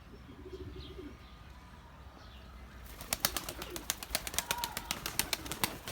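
Mardin pigeons and their young in a loft give soft, low coos, then a quick run of rapid clicking, flapping wing beats, all fairly near and moderately quiet.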